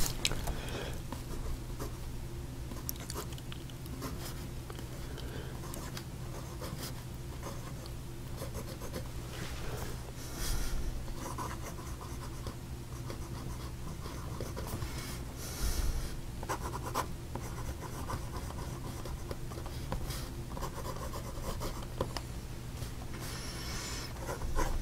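A fountain pen with a medium nib moves across paper in a long, steady, close scratchy whisper, continuous with small rhythmic strokes and faint background hum.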